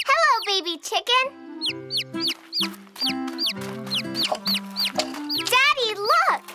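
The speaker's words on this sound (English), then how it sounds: "it's a baby chicken. It just hatched out of its egg." A cartoon baby chick that has just hatched from its egg chirps in a rapid string of high, rising peeps, loud and close over a busy background.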